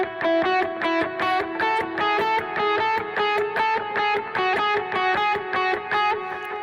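An electric guitar played through a delay effect, repeatedly bouncing between two notes, one a chord tone and one not, in a steady rhythmic pulse of clean plucked notes with echoing repeats and no talking.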